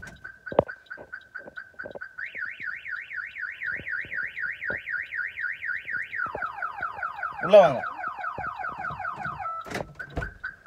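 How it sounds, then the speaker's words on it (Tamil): A Maruti Celerio car alarm blares nearby, cycling from a steady tone into a rising-falling warble, then rapid chirps, with a brief voice speaking partway through. "டெப்த் அலாரம் வந்து அடிக்க ஆரம்பிச்சிடும்"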